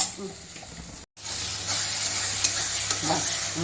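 Spice masala cooked with curd and tomato, stirred and fried in oil until the oil separates. A steady close sizzle breaks off for a moment near the start, then returns with scraping stirs.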